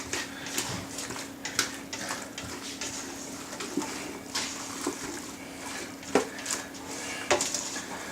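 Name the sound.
mixing broccoli and rigatoni with salt in a pot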